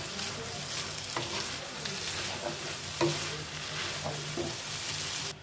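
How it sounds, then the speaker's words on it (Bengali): Chow mein noodles with meat and egg sizzle in a hot pan as they are stirred, giving a constant loud fry with scraping tool strokes and no talking. "দিয়ে ভালো করে নাড়াচাড়া দিয়ে মিশিয়ে নেব।"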